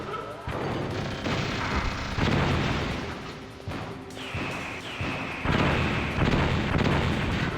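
Missiles explode one after another in Metal Gear Solid, each blast a loud, sudden boom followed by a crashing rumble, repeating every second or so at close range with no talk over them.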